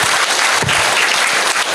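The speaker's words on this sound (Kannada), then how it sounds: "ಜೋರೈನ ಚಪ್ಪಾಳೆ ಆ ಸ್ಪೋರ್ಟ್ಸ್ ಕ್ಲಬ್ ದಕ್ಲಿಗೆ" An audience at a sports-club event applauds loudly and continuously, a dense wash of close claps with no pauses.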